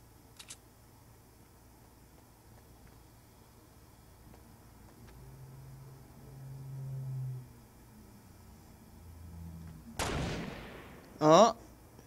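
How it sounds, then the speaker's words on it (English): Quiet in-game ambience gives way to a single loud, sharp sniper shot in a video game, its tail decaying for about a second. A voice follows right after. "I know someone's sniping up there."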